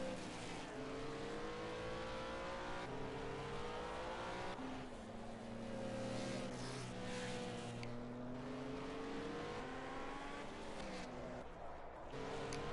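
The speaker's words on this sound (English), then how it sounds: "Loads of cars now just making their way out the pits." Race cars at the Monaco street circuit, GT4 class, pulling out of the pits, with dense overlapping engine drone and shifting revs throughout, steady and fairly loud with a faint voice underneath.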